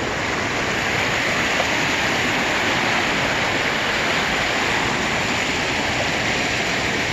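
Rushing water from a river or waterfall roars as a loud, unbroken broadband wash, close and steady throughout with no other sounds.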